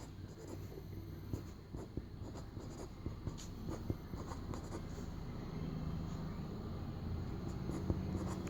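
A pen scratches out a compound interest calculation by hand: faint, close strokes and taps in short uneven bursts over a quiet room hum.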